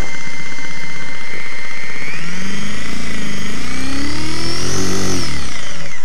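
Walkera CB180D RC helicopter with a bent rotor at full throttle: a loud, close, whining motor and rotor buzz climbs steadily in pitch, holding a harsh, wavering tone throughout with no voices.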